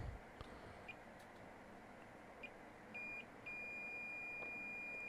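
A multimeter in diode mode tests a final transistor in a Sommerkamp TS-5680DX 80-channel AM CB radio, giving short faint beeps and then a steady continuous tone over a low background hum.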